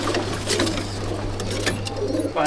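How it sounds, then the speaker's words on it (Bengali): Pigeons released from a top-quality loft in Sangrampur, with scattered bursts of wing flutter and bird sounds over a steady low hum. "পায়রাগুলো ছাড়ছি"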